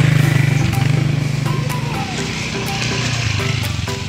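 Motorcycle engines drone close by, one buzzing rumble rising then settling into a steady hum as bikes pass.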